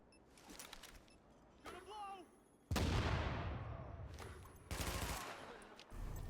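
A grenade explodes in The Division video game: a sudden loud blast that rumbles and slowly fades, with shorter bursts of gunfire before and after it.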